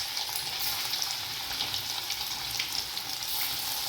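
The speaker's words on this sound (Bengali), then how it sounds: "বাকি যে পনিরগুলো রয়েছে ওগুলো আমি একইভাবে ভেজে নিচ্ছি।" Paneer pieces fry in oil in a kadai over a low flame, giving a close, continuous crackling sizzle with small popping bursts and no voices.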